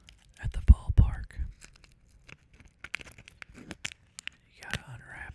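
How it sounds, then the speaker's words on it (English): A piece of bubble gum is slowly unwrapped close up, soft crinkling and tearing of the wrapper in scattered bursts, mixed with whispered ASMR-style breathing. "You gotta unwrap it real slow."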